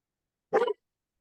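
A dog lets out a single short, sharp bark close by, with silence before and after.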